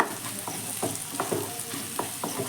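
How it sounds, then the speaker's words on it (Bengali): Egg bhujia, scrambled egg frying in a pan, gives a continuous close sizzle broken by light stirring scrapes and taps from the spatula. "আমি ঠিক এইভাবে এক সাইডে করেই ডিমের ভুজিয়াটা ভেজে নিচ্ছি"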